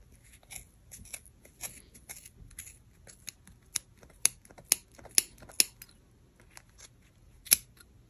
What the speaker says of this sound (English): Now you're going to take your scissors and we're going to start cutting